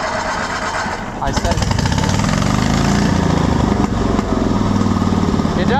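A Cushman Truckster small engine with carburetor problems runs rough and struggles to idle, its close, loud uneven chugging picking up sharply after a second and surging throughout, with someone briefly speaking over it.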